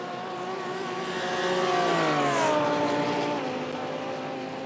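A race car engine screams along the Nürburgring in a sim racing game, a sustained high-pitched whine that swells louder as the car passes, then shifts gear with a dip in pitch and settles.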